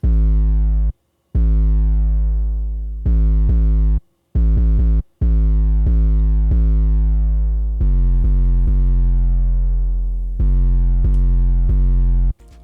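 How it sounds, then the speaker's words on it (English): A simple 808 and kick drum pattern, deep booming bass hits with long sustained tails and punchy attacks, loud and repeating in a steady rhythm with short gaps between notes. "pretty simple drum pattern."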